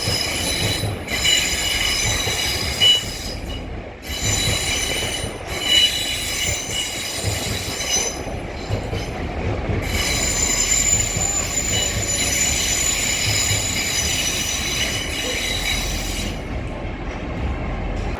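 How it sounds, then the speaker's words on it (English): Trains arriving and departing York Station, heard from a viewing platform: a loud continuous rumble with steady high wheel squeal throughout, rhythmic clickety-clack and brief dips, close and dominant for the whole stretch. "you can actually look at the trains arriving or departing from York Station."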